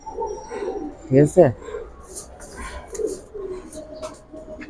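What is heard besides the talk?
pigeons cooing, fancy punky-feet pigeons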